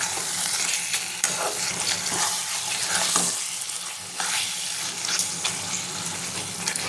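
Meat for biryani cooking in a pan with biryani masala and ghee, a steady loud sizzle and fry with stirring scrapes throughout, close and continuous.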